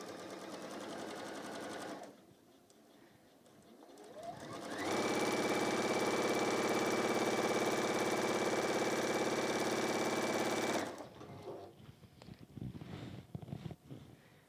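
A sewing machine stitches quarter-inch seams on a pieced picnic blanket. A short start gives way to one long, loud, steady run of fast motor hum and needle chatter that stops abruptly, followed by faint handling noises.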